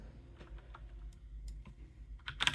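A computer keyboard being typed on close by, with a short burst of light clicking keystrokes at an uneven pace that ends in a louder cluster, and no voices.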